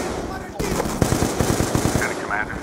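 Rapid automatic gunfire in Call of Duty Black Ops 2 starts with a sharp burst, then runs into a dense, close string of rattling shots. A brief electronic chirp sounds near the end, and there is no talk.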